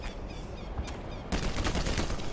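Rapid gunfire bursts from the video game Black Mesa, loud and dense, with a sharp shot near the start and a sustained rattling volley in the second half.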